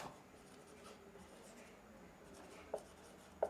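Faint chalk or marker strokes scratch across a board in a quiet room, with a couple of sharper taps near the end.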